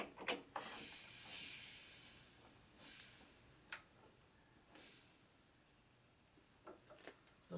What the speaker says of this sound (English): I think that valve is leaking